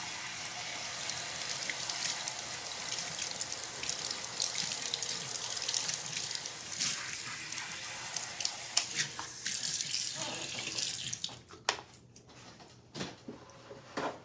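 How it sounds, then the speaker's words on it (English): Tap water runs steadily over an ice cream scooper in a sink for about eleven seconds, then cuts off, leaving a few faint clinks and drips. "Let me rinse this ice cream scooper."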